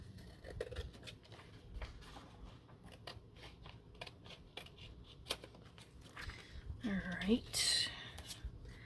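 Scissors being cleaned of glue, quiet close scraping, snipping clicks and rubbing strokes, ending in a brief louder rustle near the end, with soft whispered speech in the background.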